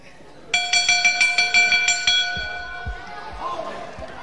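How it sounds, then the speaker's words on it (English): A loud boxing-style ring bell at ringside in a masked wrestling bout, struck in a rapid run of about a dozen bright, ringing clangs, then fading as crowd noise and a commentator's voice carry on. "they don't seem to have heard that bell, which seemed to be pretty loud to us here at ringside"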